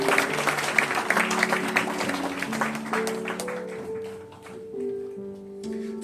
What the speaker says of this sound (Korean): 큰 박수로 함께 축하해 주시기 바랍니다.